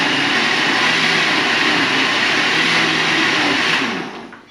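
A blender grinds an icy smoothie in a loud, steady roar close by that holds for about four seconds before winding down, with no one speaking.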